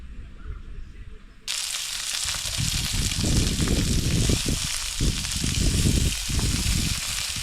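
Redclaw yabby meat with garlic hitting a hot pan at a campsite: a loud, continuous sizzle bursts in suddenly and holds steady, with faint voices or movement underneath.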